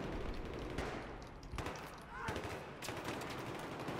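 Gunfire in the Battlefield 3 Aftermath game, dense bursts of rapid shots with sharp transients through the clip, loud and busy, with no clear talk over it.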